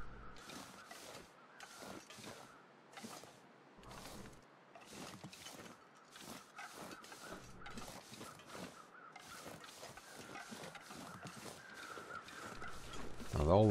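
Crows caw repeatedly in The Long Dark, gathered over red rail cars at a derailment site, and the harsh calls come in irregular bursts throughout, somewhat distant, with a loud noise at the very end.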